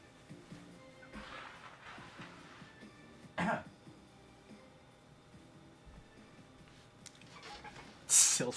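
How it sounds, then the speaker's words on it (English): A single short, muffled cough from a character in the anime-style cyberpunk game, near and fairly quiet against a low background hum, with another brief burst of noise near the end. "Hold on. I'm gonna cough."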